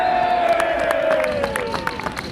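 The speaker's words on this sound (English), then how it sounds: "The final whistle brought loud crowd approval." A football crowd roars and cheers at the final whistle of a league match, a loud wash of voices with a falling whistle-like tone and scattered shouts fading slightly toward the end.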